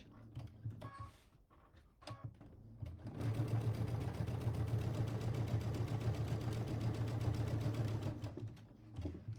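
A sewing machine stitches a fabric bookmark from scraps, starting with a few short stops and starts, then running in a steady, close, continuous whirring hum for about six seconds before halting.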